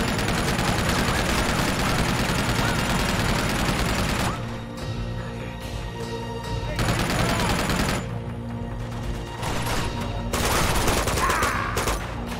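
Sustained bursts of enemy gunfire rattle through a firefight in the video game Uncharted 2, dense volleys for the first four seconds, then intermittent shooting with brief lulls, loud and continuous throughout.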